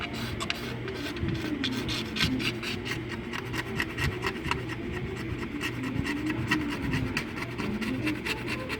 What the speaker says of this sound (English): I'm going to take this razor blade and get in here and scrape off the excess glue